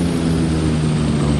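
Airliner landing in the game Airline Commander, a steady loud engine drone with a strong low hum and broadband roar, continuous and close throughout.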